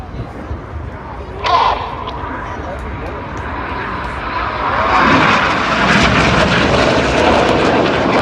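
Display jets at an airshow roar past, a loud rushing engine noise that swells and builds toward the end, with a sharp burst early on and a commentator talking over the public address.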